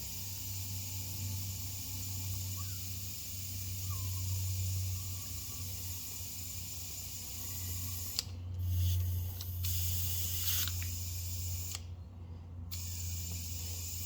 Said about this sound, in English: So I'm going to fill the tyre up to 40 psi or 43 psi